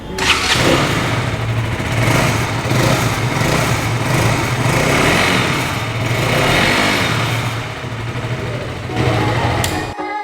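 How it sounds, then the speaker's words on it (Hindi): A 2022 KTM RC 200 motorcycle engine cranks and fires, then runs steadily with a loud, rough exhaust rumble that rises and falls slightly. "सबसे पहले इस बाइक का हम एग्जॉस्ट साउंड सुन लेते हैं और ये ऑन होगी बाइक।"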